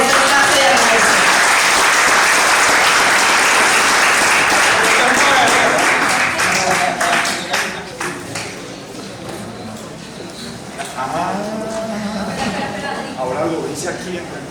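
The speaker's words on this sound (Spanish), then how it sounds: "les solicitamos un aplauso a este espacio de agradecimiento" Loud crowd applause at a peace-seat candidates' forum in Bajo Cauca, dense clapping filling the first half, then thinning and fading under voices and background talk.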